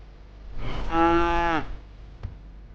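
A single long cow moo in the video game Contraband Police, loud and close, rising and falling over about a second, followed by a faint click.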